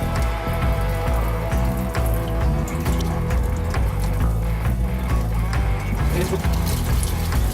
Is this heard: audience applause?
no